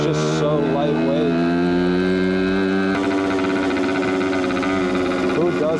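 A 1974 Suzuki TC125 two-stroke motorcycle engine runs close by with a steady, buzzy note and a slight change in pitch partway through, continuous throughout with no talking.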